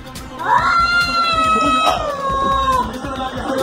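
A small kitten in a televised news segment gives a few drawn-out, high meows in close succession, with a voice briefly audible underneath.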